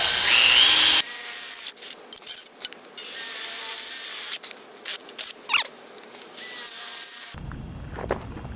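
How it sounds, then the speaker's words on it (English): A power drill whirs in repeated short bursts into a plastic IBC tote, close and loud, with scraping and rubbing between runs. "So now we're going to drill the inside of the tote."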